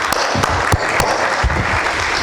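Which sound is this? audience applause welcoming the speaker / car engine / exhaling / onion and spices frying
audience applause welcoming the speaker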